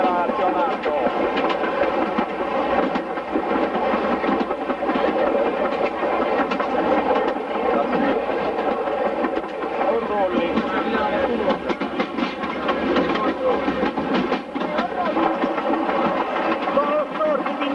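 A narrow-gauge tourist train, the Trenino Verde in Sardinia, rolls steadily along its rails with continuous rattling and clatter throughout, while people chatter in the background.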